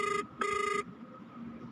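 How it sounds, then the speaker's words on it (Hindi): An outgoing phone call rings on a mobile phone, two buzzy electronic ring tones, the first short and the second longer, followed by a faint hum with no speech. "वो अपना फोन निकालकर आयशा को कॉल करता है।"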